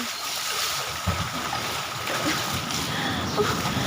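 Water rushes and splashes continuously in a broad, steady wash of noise, with a few brief voices in the background.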